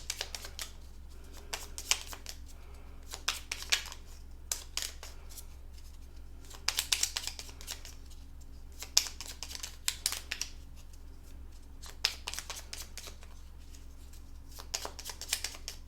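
Playing cards for the board game Harvest being shuffled repeatedly, quick riffling bursts with short pauses in between, close and fairly quiet.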